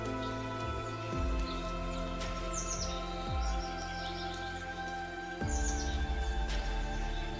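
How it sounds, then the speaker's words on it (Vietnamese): Birds chirp and call in the Kenyan wild, with repeated bright, quick trills over a steady, dense background of hum and drone. The calls come in a few short bursts, moderately near. "Chúng giao tiếp với nhau thông qua nhiều loại âm thanh, bao gồm tiếng ríu rít, tiếng gọi, và bắt chước âm thanh của các loài chim khác."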